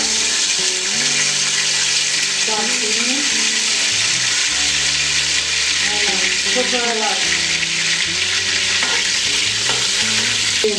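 Whole spices and bay leaves frying and being stirred in hot oil at the start of khichuri, a steady sizzle with scraping stir strokes running the full length, close and fairly loud, no talking.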